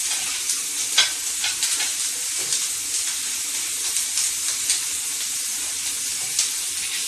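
Tap water runs steadily over hands as a woman with long fingernails washes them, scrubbing between her fingers at a sink; a continuous hissing splash with small irregular surges, close and fairly loud, with no talking.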